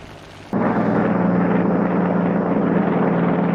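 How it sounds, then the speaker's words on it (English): Aircraft engine drone cuts in suddenly and holds loud and steady overhead, a broad propeller roar with a low hum, evoking 1937 Japanese fighter planes; no voices. "They sent fighter planes to try to destroy the flag."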